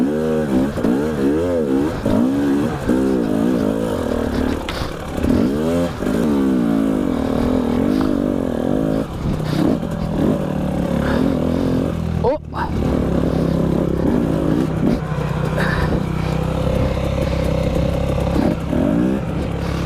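An enduro motorcycle engine runs loud and close throughout, revving and idling after being kick-started, with a brief drop midway and a person talking over it.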